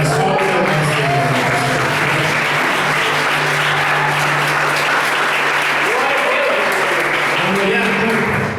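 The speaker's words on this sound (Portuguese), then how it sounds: "As palmas ao Senhor." A church congregation applauding during a service, dense steady clapping from many people throughout, with voices and cheering mixed into the applause.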